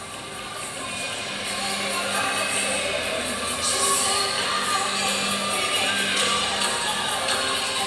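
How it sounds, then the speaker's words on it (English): A home crowd at a women's gymnastics meet between Oklahoma and Georgia in Athens cheers and shouts steadily, a broad sustained roar of many voices filling the arena. "Always gets the home crowd excited"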